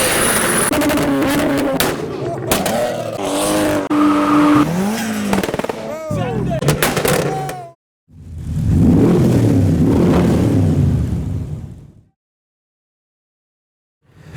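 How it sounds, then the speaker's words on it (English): Cars in a large convoy entering a car meet in Reading rev hard and roar past with a sharp tire squeal and engine revs rising and falling, then a loud rumbling pass before everything goes quiet. "We've got a large convoy of cars entering the meet."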